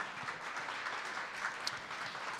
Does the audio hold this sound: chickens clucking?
no